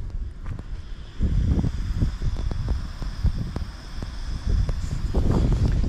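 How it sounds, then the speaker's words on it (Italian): Gusty wind blows across an open campsite where a tent is staked out with guy lines, rushing and buffeting the microphone in steady low roaring waves with brief rustling bursts, rising stronger partway through. "ha fatto vento tutto il giorno e in teoria dovrebbe continuare"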